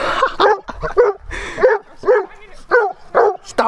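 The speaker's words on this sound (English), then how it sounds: "Stop barking at him." A Siberian Husky or German Shepherd barks repeatedly in short, loud bursts close by, with a few yips mixed in.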